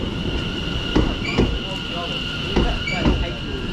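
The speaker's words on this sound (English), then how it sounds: "And here's our train." A train bound for Clacton-on-Sea rolls into a station, with rhythmic wheel clacks over rail joints, squealing wheels and a steady tonal hum, fairly loud and near.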